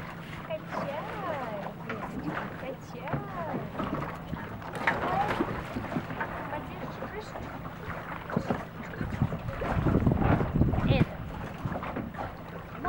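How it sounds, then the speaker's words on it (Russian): Stormy wind and waves batter a sailboat at sea off Delaware Beach, with steady gusty rushing and water noise and louder surges toward the end, while people talk over it. "Смотри, как здорово. Шторм."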